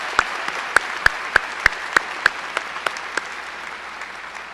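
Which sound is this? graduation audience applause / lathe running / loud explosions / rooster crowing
graduation audience applause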